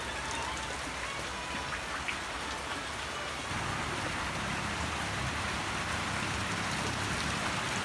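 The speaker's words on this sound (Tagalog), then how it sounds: "3 days na walang hinto yung ulan dito." Steady, heavy rain pours down continuously after three days without stopping, a dense hiss of drops drumming on surfaces throughout, with no voices.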